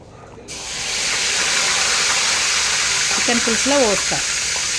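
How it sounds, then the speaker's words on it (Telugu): Hot oil left over from frying fish is poured into a pot of chicken curry, setting off a sudden loud, continuous hissing sizzle that stays strong to the end, with a voice speaking briefly over it. "ఇక నేను ఫిష్ ఫ్రై చేసిన ఆయిల్ని ఈ కలమాకి వేసి ఆ ఆయిల్ ఇందులో పోస్తాను"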